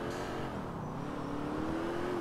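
A car engine in the GTA IV video game drones steadily with no talking, its pitch climbing slowly as it revs.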